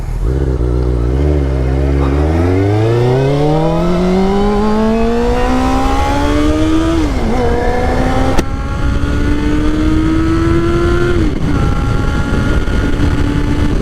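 A Honda CBR 600 F2 sport bike revs and accelerates hard through rising gears, its engine pitch climbing steadily, dipping at each upshift, then climbing again, loud and close with steady road noise and no talk.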